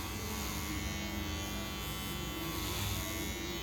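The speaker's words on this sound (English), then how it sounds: "If you hold the razor closer to the top, it's easier to control" An electric razor shaves hair into a mohawk, a constant close buzzing hum that holds steady and loud throughout with no pauses.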